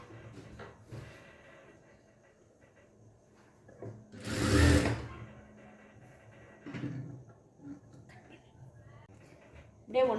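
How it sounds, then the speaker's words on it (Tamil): Short bursts from a home sewing machine stitching a blouse patti joint, one loud run in the middle and smaller ones after it, with handling clatter and quiet voices between the stitching. "இப்போ அழகாக 1 பை 1 நீட்டாக எடுத்து வச்சு அப்படியே ஸ்டிச் பண்ணுங்க"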